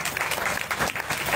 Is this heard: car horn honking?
no